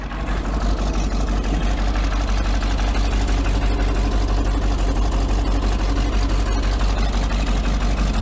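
A freshly installed engine in a Mastercraft X-2 boat idles steadily and close, a rhythmic low throb with fine ticking of injectors clicking on top, even and unbroken throughout.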